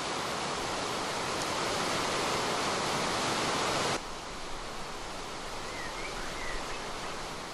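A waterfall in a deep mountain valley with legendary rock formations roars as a steady, dense rush of falling water, continuous and moderately distant, with the level dropping slightly partway through.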